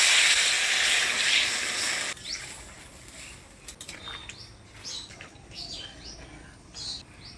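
Water is poured into a pan of taro frying in spices, setting off a loud hissing sizzle that cuts out after about two seconds and leaves quieter bubbling and faint chirps.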